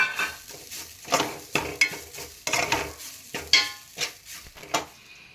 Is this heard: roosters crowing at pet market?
no